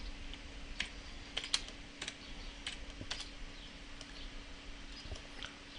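Soft, irregular clicks of fingers typing on a computer keyboard while entering a cabinet number, in short bursts of a few keystrokes over a quiet room hum.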